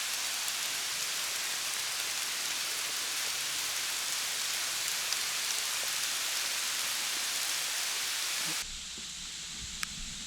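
Steady mix of rain and sleet hisses down evenly and softly for several seconds, then the noise abruptly drops to a quieter patter near the end.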